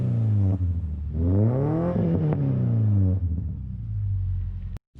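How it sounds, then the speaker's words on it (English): A Subaru Legacy with a custom axle-back exhaust and Tien lowering springs revs outdoors, its deep burble swelling into a strong rising rev, easing back, then settling to idle before a sudden cutoff. "So let's get a little outside exhaust action."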